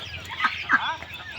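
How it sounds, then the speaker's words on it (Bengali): Ducks at a farm holding more than a thousand birds give two short, close squawking calls over a steady background murmur of the flock. "1000-এরও বেশি হাঁস রয়েছে"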